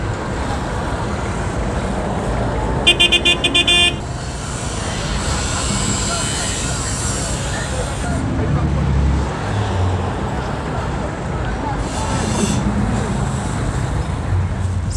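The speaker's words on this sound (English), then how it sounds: "So I'm now in a taxi taking me up to Jinja City" Riding in a taxi on a road in Mukono, central Uganda, a loud, continuous rumble of engine and road noise fills the cab, with brief beeps and a voice heard over it.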